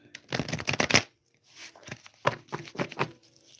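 Tarot cards are shuffled in quick riffling bursts, close and crisp, with a short pause between rounds and no speech.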